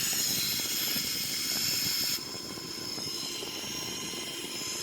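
A Boeing 737-800 engine spooling up in a flight simulator, a steady broadband turbine roar and whine that drops abruptly in level partway through, then continues evenly.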